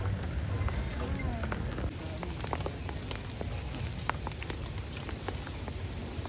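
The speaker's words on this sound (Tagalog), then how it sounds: "So kahit po malakas ang ulan eh uwi na po." Heavy rain falls on a forest clearing being cleared for slash-and-burn farming, a dense steady patter with scattered sharper drops, close and continuous throughout.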